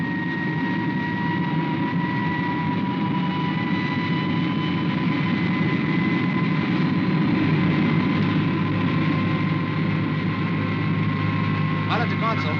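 The Supercar aircraft engine climbs in flight with a steady, loud, droning roar, thick with sustained whining tones that hold evenly throughout, a faint shift arriving near the end.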